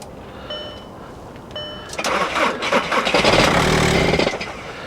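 Nissan Armada diesel engine with a flashing glow plug light and a suspected bad motor mount cranks, catches with a brief surge of revving, then dies, loud and close with no talk.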